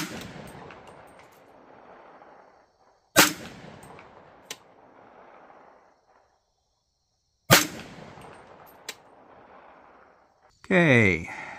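Two loud, sharp rifle shots from a BCA 16-inch Bear Claw 300 Blackout upper, fired several seconds apart outdoors, each followed by a quieter knock and a fading echo, with brief talk between them.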